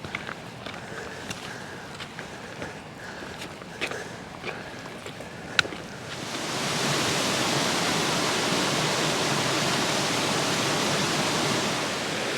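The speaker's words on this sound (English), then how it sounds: "So this waterfall is the runoff from the tarn at the top, and the gill that runs right down the valley is called Tongue Gill." Mountain waterfall formed by runoff from a tarn above Tongue Gill; after quiet footsteps and faint outdoor sounds, a steady, loud rushing roar of falling water sets in and continues unbroken.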